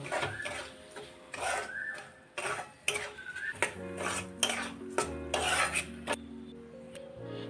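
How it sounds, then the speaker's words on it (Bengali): Soaked barnyard millet stirred with spices in a pan, repeated scraping and clinking strokes of a spoon against metal in an uneven rhythm, close and fairly clear. "মশলার সঙ্গে আমি শ্যামা চালটাকে আমি আরেকটু ভালো করে নেড়ে দেব।"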